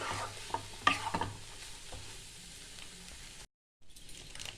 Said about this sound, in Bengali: এবার সব ভালো করে মিশিয়ে নিতে হবে।